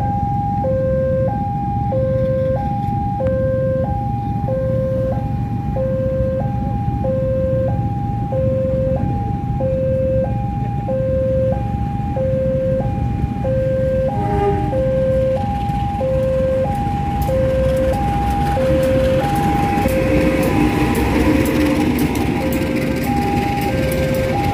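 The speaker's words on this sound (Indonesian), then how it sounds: "Sudah muncul kereta lokalnya menggunakan trek baru." Two-tone warning chime alternates steadily throughout as a local train arrives at Haurpugur station in Indonesia on newly laid track, with a rumbling engine and wheel noise building underneath toward the end.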